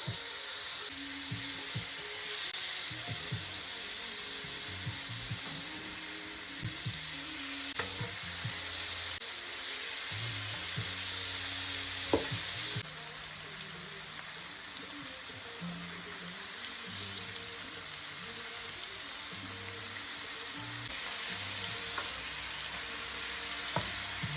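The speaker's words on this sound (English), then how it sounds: "So now we're gonna go ahead and start frying up this chicken." Chicken sizzles and crackles steadily in a hot pan, a dense hissing fry with occasional stirring and scraping, continuous and close.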